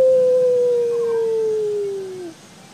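A single long, smooth howl imitating a wolf, loud and close, holding a steady pitch before sliding down and cutting off, with no talk over it.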